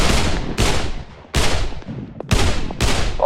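Suppressing gunfire from AK rifles in the VR shooter Pavlov: loud, sharp bursts of shots in several separate volleys, close and echoing, with no talk over them.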